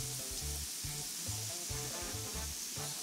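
Onion and chili sizzle in a hot pan with a steady, bright frying hiss, close and continuous, while a faint low rhythmic thumping pulses underneath; no one speaks.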